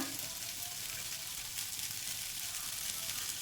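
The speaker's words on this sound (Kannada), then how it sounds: "ಅಡುಗೆ ಮಾಡಲಿಕ್ಕೆ ಒಂದು ಪಾತ್ರೆ ಇಟ್ಟಿನಿ ರೀ ಅದಕ್ಕೆ ಸ್ವಲ್ಪ ಎಣ್ಣೆ ಹಾಕೋಣ" Oil going into a cooking pot set on the stove to make bottle gourd palya, giving a steady broadband hiss and sizzle throughout, fairly quiet and continuous, with no voices.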